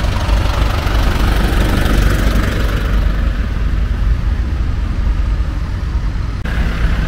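Large tractors at a charity tractor rally rumble past in a steady, loud, low engine drone that continues throughout, with no talking.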